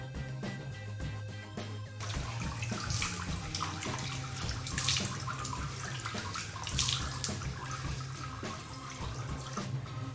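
Tap water runs steadily into a sink or basin while a face is washed, a continuous splashing stream with no talk, fairly close throughout.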